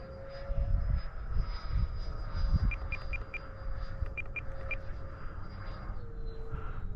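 A Freewing F-4 Phantom model jet flies overhead with a steady electric ducted-fan whine and a rushing roar that swells and fades, heard from a distance outdoors with no one talking.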